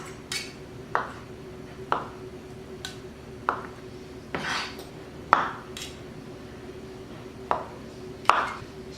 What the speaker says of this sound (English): So into the crock pot the potatoes go.